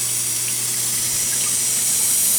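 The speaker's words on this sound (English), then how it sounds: "It's running now. You can see the water kind of flowing." Water flows continuously from the running pump of a Perseo-Erie Model S26 EDM DrillMate drilling machine, a steady loud hiss and wash over a low machine hum, with no talking.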